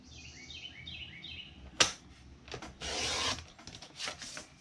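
A paper trimmer slices cardstock pieces with a sharp snap followed by close rasping blade strokes, quiet and without talk.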